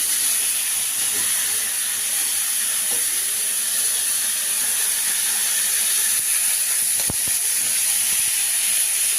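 Large fish heads frying in hot oil give off a steady, even hiss that runs throughout without a break, with only a few faint clicks over it.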